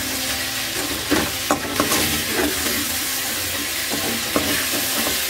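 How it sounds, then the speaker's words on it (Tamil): Fried chicken pieces are stirred into sautéed garlic and curry leaves for a Chettinad chicken uppu kari, giving a loud, continuous sizzle broken by repeated scraping stir strokes. "இப்போ இதெல்லாம் ஓரளவு வதங்கினதும் நம்ம வறுத்து வச்சுருக்கிற இந்த சிக்கனை போட்டுக்கலாம்."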